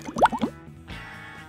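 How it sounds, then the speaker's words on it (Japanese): Hands are washed at a sink during a leather wallet edge repair: a few quick drips and splashes of water, then a soft, steady run of tap water, all quiet and close. "手を洗いに行きます"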